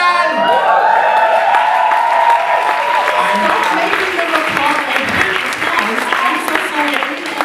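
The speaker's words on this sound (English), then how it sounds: "Well, but I hate your applause." Audience applause with some cheering and whoops at a comedy stage show, loud and sustained, with a voice talking over it early on.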